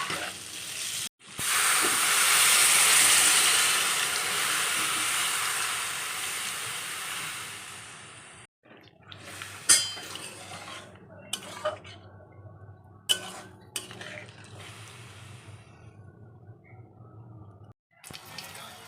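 Papad frying in oil in a kadai gives a loud, close hiss of sizzling for several seconds, then fades into scattered clinks of utensils, stirring knocks and a low background hum.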